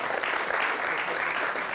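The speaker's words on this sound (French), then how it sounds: "Et on peut l'applaudir bien fort." A short burst of loud applause from an audience at a club event, many hands clapping densely and evenly for under two seconds.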